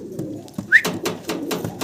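Pigeons coo softly in a series of low, repeated calls, close by, with a brief higher chirp in between.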